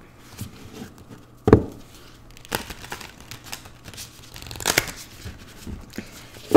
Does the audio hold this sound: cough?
no